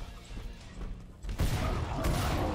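Grenade blasts burst out in Killing Floor 2 as a dense, roaring wave of explosions and debris, loud and close, following a quieter stretch of game noise.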